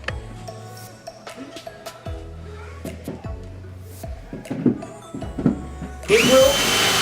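An electric drill pre-drills a pilot hole into wood, short whirring bursts repeating near the microphone in a workshop before a louder, sustained run at the end.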